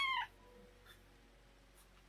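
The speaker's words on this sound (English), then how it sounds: "Sorry, that's my cat just decided." A house cat lets out one short, sharp meow at the very start, fairly close, then only quiet room noise follows.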